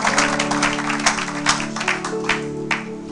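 Church congregation clapping in scattered, uneven bursts during worship, with a sustained musical tone underneath; the applause comes in rhythmic swells over a few seconds.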